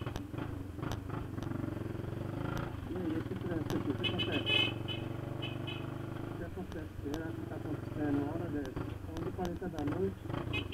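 Night street traffic recorded on an SJCAM M10 action camera's built-in microphone, with motorcycles droning past and occasional car horns sounding under a steady rumble while people talk over it.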